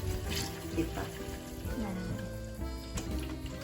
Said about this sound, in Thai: เสร็จแล้วเราก็มาดับกลิ่นคาวอีกครั้งด้วยการล้างด้วยน้ำส้ม